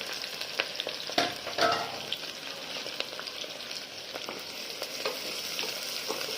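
Onion and chili sizzling in a hot pan, a steady crackling fry with scattered stirring clicks and a couple of louder scrapes early on, continuous and close.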